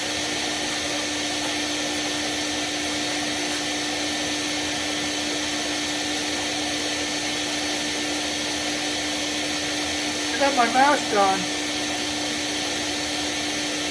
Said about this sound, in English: Let the vacuum